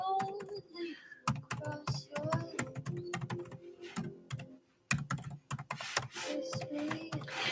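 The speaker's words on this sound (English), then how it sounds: "I'm actually going to type it in the chat for you guys." Rapid clattering keystrokes on a computer keyboard, close and steady with irregular bursts and a brief pause midway, typing continuing alone without speech.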